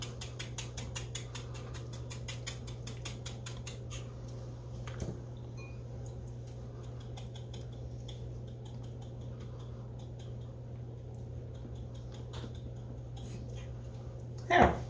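A pepper or salt grinder is twisted over a tossed salad, giving a fast run of close clicking ratchet ticks, then quieter scattered clicks over a steady low hum.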